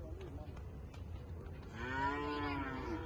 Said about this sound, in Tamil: பாருங்க மாடு கூட கத்துது.